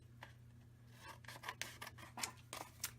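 Scissors cutting through paper card, a short run of faint crisp snips and rasping cuts at close range over a low steady hum, quiet and without speech.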